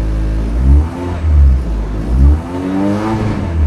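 A rally car in a 1000 km rally accelerates hard, its loud, close engine rising and falling through repeated revving surges with rumbling low end.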